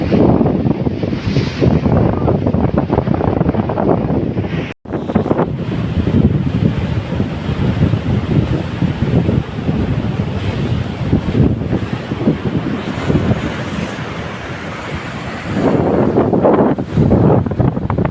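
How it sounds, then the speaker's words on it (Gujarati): Sea waves break continuously on the shore at Ratneshwar, a loud, rolling surf mixed with heavy wind buffeting the microphone throughout, with one brief dropout partway through. "તો આવી રીતે મોજા વળે છે."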